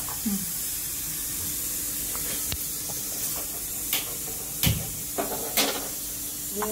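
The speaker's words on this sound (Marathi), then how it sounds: "आणि सगळ्यात शेवटी आता तेल कडक केलेलं घालायचं आपल्याला." Hot oil hisses as it is poured into flour dough mixed with a little semolina, a continuous close spray-like sizzle broken by a few soft clicks and knocks.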